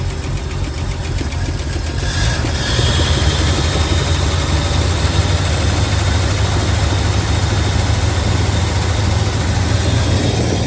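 A 1969 GMC six-cylinder engine idles, giving a loud, steady, low rumble with a light clicky ticking running through it, close by and with no talk.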